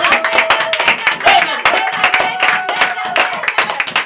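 A church congregation claps loudly and close up in quick, uneven bursts. Voices and shouting mix in beneath the hands for the whole stretch.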